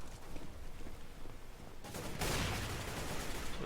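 Bursts of rapid gunfire from the video game CS:GO fill the clip, with a harsh, continuous crackle that gets louder and denser about two seconds in. No one speaks.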